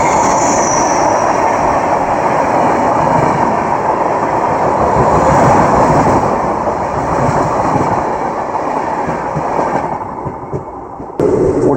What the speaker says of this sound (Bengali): এটা গেল হচ্ছে ভুবনেশ্বর তেজাস